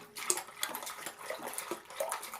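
Water from a darkroom water bath poured over Kodak positive slide film to wash it, a close, steady splashing and trickling with uneven surges, no voices.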